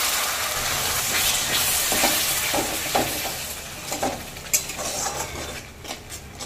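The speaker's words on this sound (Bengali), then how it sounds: "মশলাটাকে একটু ভালো করে কষে নিতে হবে।" Ground spice paste with a splash of water, salt, chilli, coriander and cumin powders, sautéed for muri ghonto, sizzles steadily while a spoon stirs and scrapes the pan in irregular clinks, no voices.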